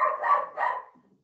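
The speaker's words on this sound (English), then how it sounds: "I think he's barking in the background." A dog barks in the background, two rough barks close together that trail off into quiet, with no talking over them.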